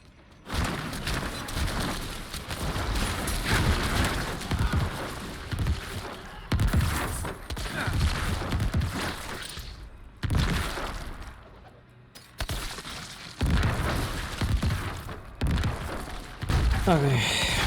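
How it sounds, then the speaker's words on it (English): Necromancer casting Corpse Explosion in Diablo 4: dense bursts of crunching, shattering blasts and thuds pile up in loud waves, broken by brief lulls, with speech mixed in. "I'm casting Corpse Explosion."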